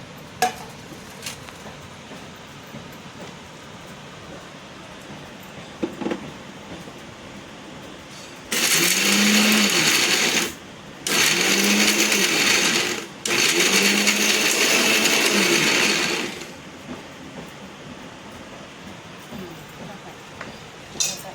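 Fried edible gum (dink) ground in an electric mixer, three loud whirring bursts of a few seconds each with short gaps, after quieter kitchen clinks and handling noises.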